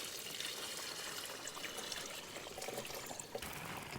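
Water poured into the top of a GreenStalk vertical planter, a steady close trickle and splash that runs continuously for a few seconds with no talk.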